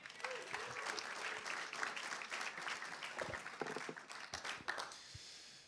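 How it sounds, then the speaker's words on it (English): A conference audience at a hall of fame panel applauds Brandon Brown, a fairly distant-sounding, continuous patter of many hands clapping that carries on steadily before tapering off at the end. "Let's give a big round of applause for Brandon Brown"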